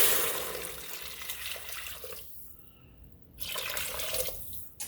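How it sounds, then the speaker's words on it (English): Water pours into an Instant Pot holding crushed tomatoes and tomato sauce, a soft running splash that fades partway through and then briefly resumes, close and fairly quiet. "I'm going to add in some water."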